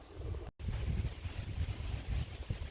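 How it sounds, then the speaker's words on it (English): Gusty wind buffets the microphone with a low rumbling roar, steady throughout apart from a brief dropout near the start. "Of course, it's a windy day when he's doing this."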